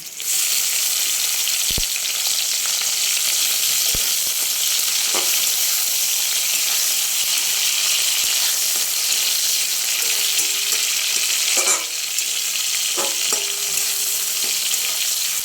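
Spice paste and tomato hitting hot oil with onions in a pan, a loud, continuous close sizzle with a few sharp clicks and stirring scrapes.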